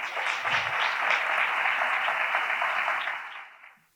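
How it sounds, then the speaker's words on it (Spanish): Audience in a youth center hall applauding a guest arriving at a civic ceremony, a brief dense burst of clapping that holds steady and then fades out. "Un aplauso para él"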